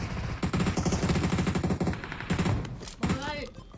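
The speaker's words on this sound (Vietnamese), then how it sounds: "Bắn nhau ngoài kia vậy" Rapid bursts of automatic gunfire in PUBG Mobile, loud and close, rattling in fast repeated volleys with a few short pauses and a final scattered burst.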